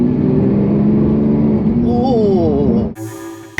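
Lamborghini Aventador SVJ 63 supercar engine droning loud and close before a quick rising rev, then cutting off abruptly, with voices talking over it.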